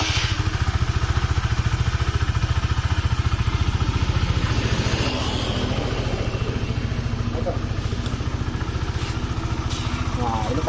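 Honda Sonic motorcycle engine running after a balancer rubber replacement, a steady, rapid, close idling putter with mechanical clatter, with speech heard over it.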